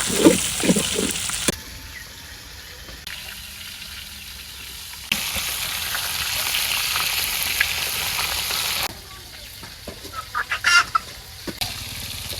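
Turmeric and chili powder masala frying in a pan in a village kitchen, heard as a steady broadband sizzle in long stretches, with chickens clucking and a rooster nearby.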